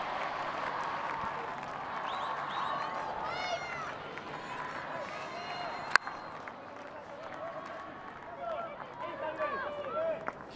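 A stadium crowd at an Argentina versus Australia women's field hockey match roars and applauds in a sustained wash of cheering, with a commentator talking over it and a sharp thump midway.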